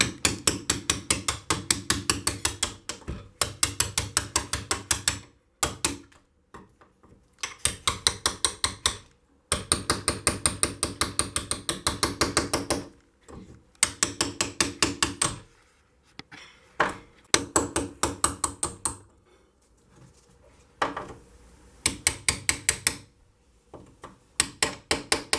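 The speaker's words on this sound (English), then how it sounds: "I'm going to start trying to release this glass from the rebate" Rapid bursts of sharp hammer taps on old window glass in its rebate, repeated in quick runs separated by short pauses, close and loud.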